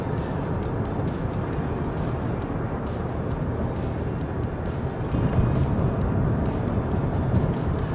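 A 2018 Jeep Grand Cherokee Trailhawk rolls over rough bridge decks on a road, giving steady broadband cabin road rumble that grows slightly louder and coarser partway through, with no one talking.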